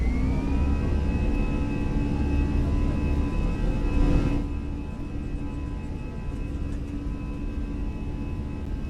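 Airplane engine during takeoff on a flight into Key West, a steady loud whirring drone with a sustained tone throughout, slight swell midway, and no voices.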